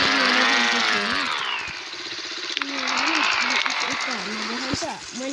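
A modified motorbike engine in the Roblox game MX World revs and whines, its pitch sweeping up and down in a buzzy, continuous drone under steady talking.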